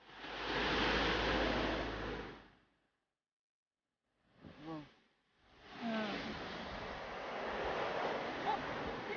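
Sea waves at Gyeongpodae beach roar in a loud continuous wash, drop into a few seconds of silence, then return after a short faint sound.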